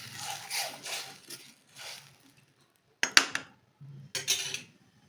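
Spoon clinks and scrapes against a pan while chutney paste is mixed into sautéed garlic and ginger, in short, irregular bursts separated by brief pauses, no talk.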